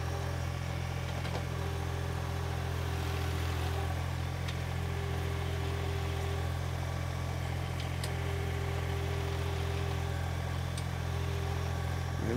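A Land Shark small compact post hole digger runs with a steady, droning engine hum at moderate distance, unbroken throughout with a faint periodic whine layered on top.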